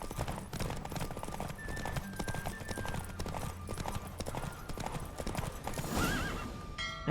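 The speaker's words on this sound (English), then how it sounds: "Don't spare the horse." A horse gallops in The Witcher 3 video game, with steady rapid hoofbeats thudding throughout and a whinny near the end, while game sounds play underneath.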